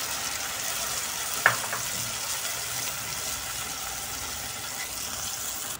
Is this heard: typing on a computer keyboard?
no